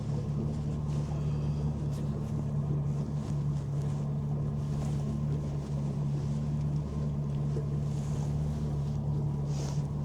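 A big outboard motor drones steadily as a fishing boat pushes slowly upstream on a river, a continuous low hum with light wind noise over the microphone throughout.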